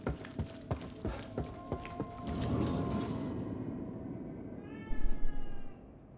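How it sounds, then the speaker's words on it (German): A cat in the video game The Evil Within 2 lets out a drawn-out meow, then a louder, sharper one, after a run of rhythmic footsteps and a burst of rustling noise. "Katze."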